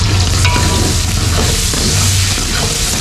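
Curry leaves and whole spices — cardamom, cinnamon, cloves, black pepper — sizzle loudly in hot oil for a biryani cooked on the street, a steady dense crackle with stirring scrapes and no talk.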